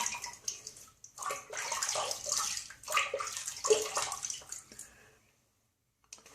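Water runs and splashes as a face is wetted before shaving, a steady, close rushing with brief gurgles that stops near the end, leaving quiet.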